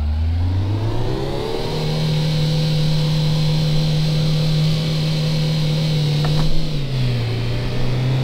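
A drift car's engine in City Car Driving is pushed to full throttle, rising in pitch then holding a steady loud drone, with a brief shift-like dip near the end.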